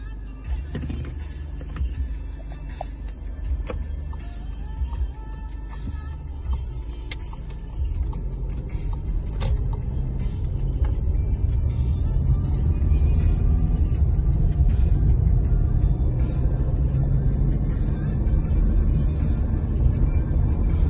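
A diesel engine in a 2015 Volkswagen Passat B8, 2.0 litre with automatic gearbox, rumbles steadily while driving, low and continuous, growing a little louder and heavier partway through, with faint clicks and rattles from the cabin.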